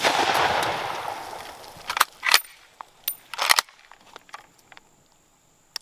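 A prop gun fires at a full-size White Claw can, giving a sharp loud crack after a rushing noise, then a second report and a few short clattering impacts that fade to near silence.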